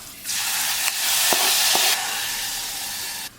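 A hot tempering with green chillies and curry leaves poured into a raw mango and bitter gourd curry erupts in a loud, close, hissing sizzle that runs for about three seconds, with a couple of faint spoon knocks, then cuts off.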